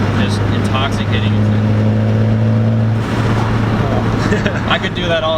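A Ford Focus ST turbo engine with its blow-off valve set half recirculating revs steadily, holding a strong droning tone for a few seconds before easing, with a loud close-up character and some talk over it.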